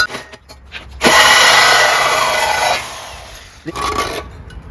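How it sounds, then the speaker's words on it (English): A saw cuts through a rotted exhaust pipe on a 1987 Dodge Ram 50 during a muffler replacement: one loud, harsh rasping stroke run lasting about two seconds, then a shorter second burst after a brief pause. "Let's cut this other pipe first"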